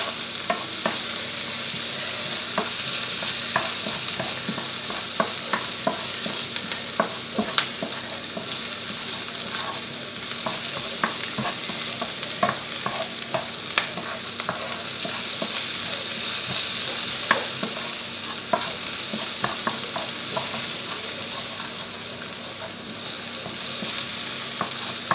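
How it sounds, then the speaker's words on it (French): Onions sizzle steadily in a frying pan as they sauté toward translucency, a continuous close hiss broken by frequent sharp utensil scrapes and taps from stirring, with no talking. "Revenir nos oignons à peu près, allez, mais en fait il faut qu'ils deviennent translucides."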